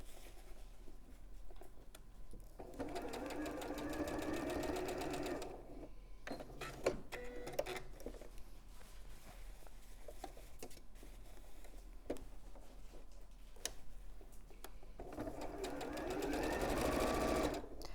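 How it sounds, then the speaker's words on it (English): A sewing machine tacks several fabric layers together, its needle running in steady rapid bursts broken by brief pauses and clicks, moderately quiet and close, with no talk over it. "Now I'm going to tack it into place across the top"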